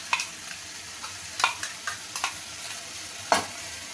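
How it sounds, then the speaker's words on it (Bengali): Chicken and chickpea masala stir-fried in a pan, with a steady low sizzle under scattered scraping clinks of a spoon against the metal, a few sharper strokes standing out; no talking. "এবার আমি ভালোভাবে কষিয়ে নেব।"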